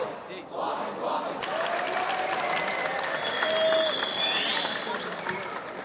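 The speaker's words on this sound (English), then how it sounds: "students cheered and clapped as the flag adopted by the new authorities was raised" High school students in Damascus cheer and clap as a new flag is raised: sustained, fairly close applause with shouts and whoops rising over it, swelling toward the middle before easing slightly.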